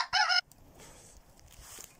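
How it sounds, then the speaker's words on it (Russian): A rooster crows: a short, loud, harmonic call at the start, then quiet outdoor background with faint rustling and no speech. "Вот уже кукарекает у меня."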